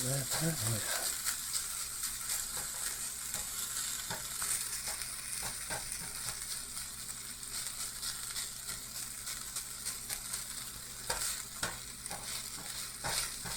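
Rice stir-frying in oil in a non-stick pan, a steady close sizzle with scraping and stirring clicks of a utensil running throughout, no voices.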